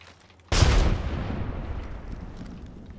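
A single sharp, loud grenade blast in Apex Legends bursts suddenly and close, then rumbles and decays over a couple of seconds.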